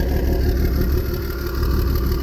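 A Perkins engine idles on a stand with a hose feeding its water system, making a steady, loud, even mechanical drone with a faint rattle throughout.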